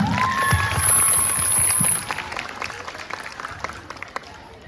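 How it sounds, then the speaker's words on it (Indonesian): An audience claps after a junior high school theater performance. The applause is dense and loud at first, then thins to scattered claps, with a high sustained tone and a few voices in the background. "Tepuk tangan dulu untuk semuanya."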